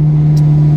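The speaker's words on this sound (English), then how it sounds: "The exhaust is fabulous, huh?" Ferrari exhaust heard on the road, a loud, steady low drone with a strong single tone held through the brief moment, close and alone without talk.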